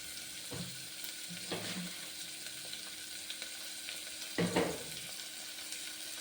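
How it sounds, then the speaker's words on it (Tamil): Onions sauté in a pan for kurma, a quiet frying sizzle with several soft bursts of stirring and scraping, heard alone without talk. "வெங்காயம் வதங்கட்டும்"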